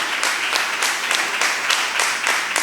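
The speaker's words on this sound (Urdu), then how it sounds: "زوردار تالیاں خدا کے جلال کے لیے۔" A church congregation claps vigorously in a dense, steady wave of applause that sounds close and fairly loud, with no clear speech on top.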